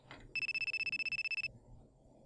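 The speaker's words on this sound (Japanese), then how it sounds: "あれやこれやと考えを巡らせていると、電話が鳴った。" A telephone rings in one short electronic burst of rapid, evenly pulsed trilling tones, clear and close against a quiet background.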